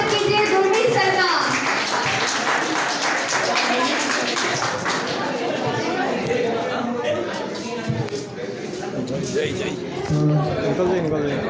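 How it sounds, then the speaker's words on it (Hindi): Audience clapping and cheering at a school Teachers' Day celebration to welcome a teacher back, sustained dense applause with children's chatter and voices mixed throughout. "एक जोरदार तालियों के साथ दोबारा से स्वागत कीजिए"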